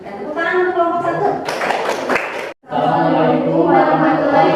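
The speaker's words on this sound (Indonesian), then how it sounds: "Dan tepuk tangan untuk kelompok satu." A short burst of classroom clapping for the first student group, lasting about a second between stretches of talking voices.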